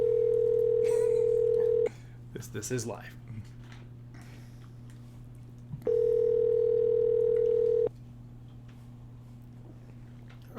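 An outgoing phone call rings unanswered, with two long, steady ringback tones separated by a pause of silence on the line. A voice briefly speaks between the rings.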